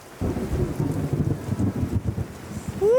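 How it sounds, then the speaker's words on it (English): Thunder rumbles heavily over a sailboat at sea in a lightning storm, a deep rolling roar that swells and pulses for a couple of seconds, ending with a brief rising tone. "Ready for the thunder?"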